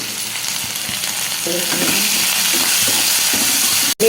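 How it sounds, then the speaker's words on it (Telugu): Curry leaves, dry fish and onion fry in hot oil with salt and turmeric, giving a loud, continuous close-up sizzle with light stirring clicks and one sharp knock near the end. "ఉప్పు పసుపు వేసుకోవాలి, కాసేపు వేగనివ్వాలి"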